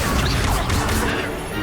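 An Accio spell cast in Hogwarts Legacy, a loud, continuous crashing and smashing magical effect with a whooshing edge that holds throughout and tapers slightly at the end.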